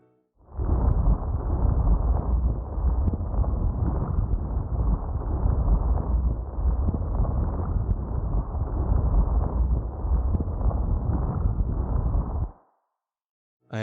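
A redesigned main-menu sound for the game Honkai Star Rail: a dense, rumbling, crackly asteroid-like roar with rock crackling, swelling in and holding steady for about twelve seconds while volume automation pans it from right to left, then cutting off.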